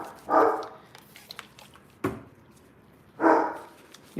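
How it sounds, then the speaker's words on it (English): A 100-pound golden doodle barks as a guard dog in the background, two deep, loud barks about three seconds apart with softer clatter and a sharp knock between them. "You can hear my dog barking in the background"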